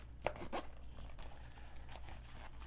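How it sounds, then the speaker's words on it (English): A zipper pulled open on a camera carrying case for a DJI Osmo Pocket 3, two quick close rasping zips followed by softer fabric rustles and a few faint later drags. "If I open this up, there goes zipper time."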